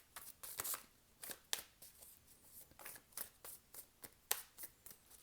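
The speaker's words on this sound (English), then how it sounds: "I'm going to give this a good shuffle." Light Seers Tarot cards riffled and shuffled by hand in a quiet room, a run of quick papery flutters and soft slaps in irregular bursts, close and clear.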